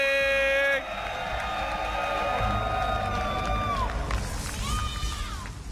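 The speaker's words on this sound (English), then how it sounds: "Give a cheer for SKT1 PartinG!" A crowd at a Red Bull Battle Grounds esports grand final in New York cheers in a sustained, loud roar, with tonal music sweeps layered over the noise.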